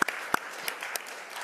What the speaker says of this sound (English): I'd like a round of applause just for all of our speakers today